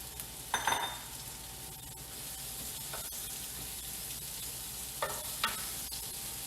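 Onions drop into a hot pan and sizzle faintly, with a few short, brighter bursts of frying and clatter over a low, steady hiss.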